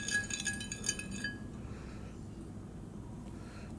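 A spoon stirs citric acid in a glass, making quick, bright clinks against the glass for about a second before a quiet, faint background remains.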